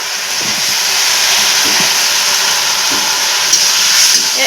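Fried potatoes go into a pan of spiced pond-fish curry, and a steady loud sizzling hiss fills the whole stretch with faint clatter beneath.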